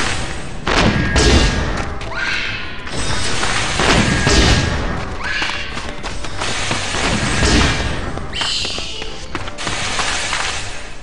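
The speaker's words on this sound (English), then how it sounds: "There's like bombs everywhere." Bombs burst repeatedly in a Final Fantasy XIV battle, a dense run of loud booms and crashing impacts layered over continuous game noise, with no pause between blasts.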